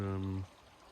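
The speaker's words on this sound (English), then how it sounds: "it's next to the waterfalls, so you just sleep next to it" A waterfall beside a secret campsite at Dunnywater: a soft, steady rushing wash of water that is heard briefly beneath a voice and then continues on its own.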